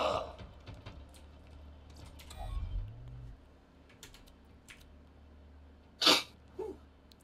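A single sharp sneeze bursts out near the end, loud and sudden, following quiet room noise and faint clicks.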